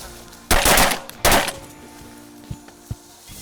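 Two loud shotgun blasts fired at geese during a hunt, close together about a second apart, followed by a couple of faint distant pops; no talk over the shots.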